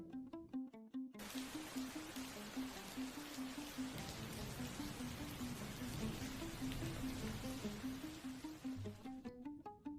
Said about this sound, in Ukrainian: Коли у хмарах збирається багато краплинок, вони падають на землю у вигляді дощу.